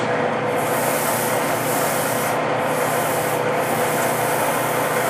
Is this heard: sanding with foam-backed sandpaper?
yes